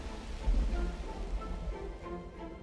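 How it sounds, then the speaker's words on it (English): Rain in The Universim falls as a soft, dense patter with a low rumbling wash underneath. It is steady and fairly quiet across the whole stretch, with no voices. "I'm going to go ahead and give you guys some rain"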